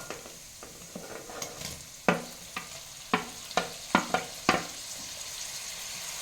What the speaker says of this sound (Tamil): அப்புறம் தக்காளியும் புதினாவும் போட்டு வதக்கலாம்